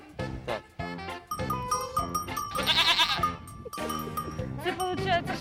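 Several goats bleat repeatedly at close range with a bell jingling now and then, while people talk over the herd.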